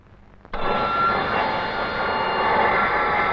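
An airplane roars in abruptly after a moment of quiet, then holds a loud, steady broadband engine rumble with a whining tone, close and continuous without speech.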